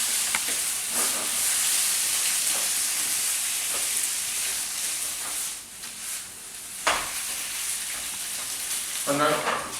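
Vegetables and tomatoes for ratatouille fry in a pan with a steady, close sizzle and hiss that continues throughout, with faint stirring clatter and a brief louder crackle near the end.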